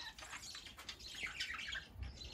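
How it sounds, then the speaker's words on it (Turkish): Soft, busy chirping and twittering of budgerigars, several overlapping calls at low volume with faint rustling underneath. "Muhabbet kuşu benim"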